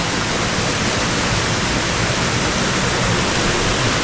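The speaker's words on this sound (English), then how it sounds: "There's the waterfall leading back up to the dam and the reservoir." A waterfall spills down from a reservoir dam near an old railway viaduct in England, a loud, dense, continuous rush of falling water with nothing else audible.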